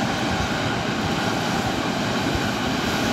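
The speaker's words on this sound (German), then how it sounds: "So, das ist der Zug nach Lichtenrade." A Berlin S-Bahn train bound for Lichtenrade passes near Marienfelde, producing a loud, constant broadband rumble and rush with no distinct breaks throughout.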